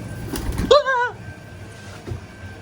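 A pigeon gives a single short cooing call of a few rising-falling notes up close beside a car door, briefly after low rustling, then quiet background.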